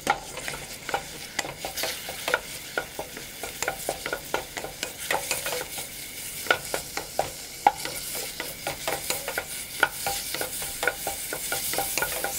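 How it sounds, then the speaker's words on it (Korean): Beef stir-frying in sesame oil in a hot pan, a steady sizzle broken by frequent sharp scrapes and clacks of the utensil stirring, close and continuous with no talk. "달궈준 후 제일 먼저 쇠고기를 넣고 볶아주도록 하겠습니다"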